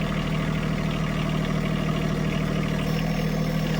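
A tractor engine runs steadily with a dense, continuous mid-low drone while its bucket is raised hydraulically, loud and close with no pauses.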